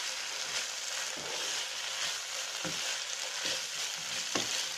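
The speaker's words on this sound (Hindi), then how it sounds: "हाई फ्लेम पर इसको अच्छी तरह से मिक्स कर लेंगे। हमें शिमला मिर्च और पत्ता गोभी को बहुत ज़्यादा नहीं कुक करना है" Cabbage and capsicum stir-fried over a high flame, a steady loud sizzle with repeated scraping stir strokes roughly every second, no voices.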